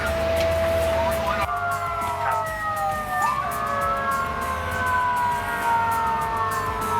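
A fire truck siren wails loudly nearby and sweeps in pitch as the vehicle passes on a city street with light rail tracks, clear and prominent over steady traffic rumble.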